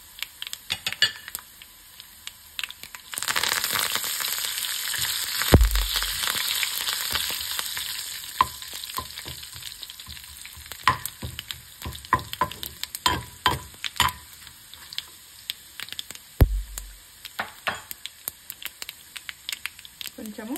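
Curry leaves hit hot tempering oil for a dal of gangavailu greens, bursting into a loud close sizzle that then settles into irregular crackling and spatter with a few utensil clicks, while a person talks.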